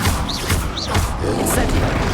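A Bombarda blasting spell cast in the Hogwarts Legacy video game, heard as a few dull, booming bursts layered over constant busy combat noise, loud and close.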